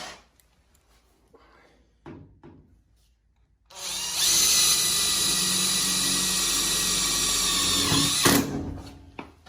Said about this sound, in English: small 1/2 inch self-tapping screws through both pieces of metal there